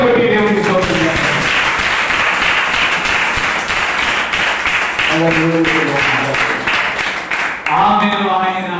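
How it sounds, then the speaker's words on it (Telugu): A church congregation claps hands in praise, a dense, steady wash of clapping that continues throughout while voices sing and speak over it. "చప్పట్లు కొట్టి దేవునికి స్తోత్రం చేద్దాం."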